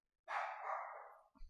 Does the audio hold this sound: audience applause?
no